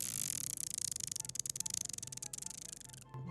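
A human voice mimics the ratcheting of a bicycle chain pulled backwards: a rapid, even train of clicks lasting about three seconds, close and fairly quiet, ending with a short breathy burst.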